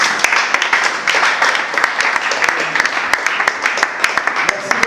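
An audience at a theatre event applauds steadily and loudly, with dense clapping and sharp individual claps throughout, under faint crowd voices.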